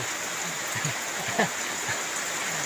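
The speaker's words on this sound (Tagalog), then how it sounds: "yung tubig dito sa loob ng bahay ni sa Erning" Floodwater flows inside a house after a flood and landslide, making a constant close rushing, trickling hiss with faint low splashes, and no speech over it.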